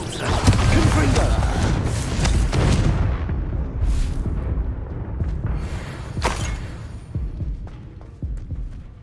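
Expulso and Confringo spells go off in Hogwarts Legacy with loud, booming blasts and a heavy, rolling rumble. Sharper cracks follow as the blasts fade, and a voice speaks between them.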